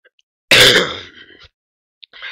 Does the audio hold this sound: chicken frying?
no